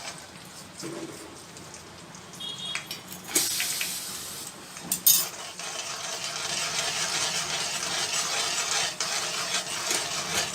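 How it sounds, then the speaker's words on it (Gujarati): Oil crackles and sizzles steadily in a pan, with a brief louder burst of hissing partway through as asafoetida and then onion go in. "તેલ ગરમ થાય એટલે એમાં થોડી હિંગ નાખીશું થઈ જાય એટલે એમાં થોડી ડુંગળી નાખું છું"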